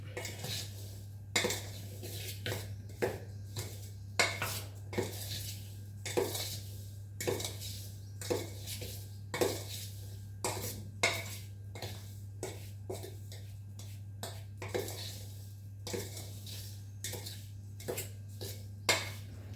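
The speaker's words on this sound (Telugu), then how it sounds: "ఇంకా ఇవన్నీ ఇట్లా కలిపేసుకుందాం మనం" A spoon scrapes and clinks repeatedly against a bowl while mixing spice powders, including sesame powder, for a small gooseberry pickle, in an irregular stirring rhythm over a steady low hum, close and fairly quiet, with no talk.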